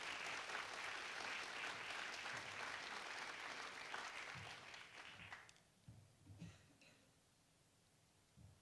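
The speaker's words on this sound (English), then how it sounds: "Please give her a big round of applause." An audience at a City Club of Portland civic event applauds a speaker. Full, steady clapping fades out after about five seconds, leaving a quiet room with faint stray sounds.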